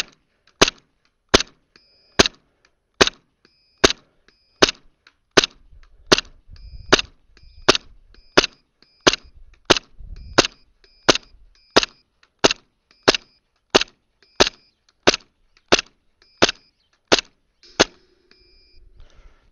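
A Novritsch SSP-1 Hi-Capa 5.1 airsoft pistol fires 0.25 BBs in a long, evenly spaced series of about twenty-five sharp, loud cracks, each crisp and separate, with faint handling noise between shots.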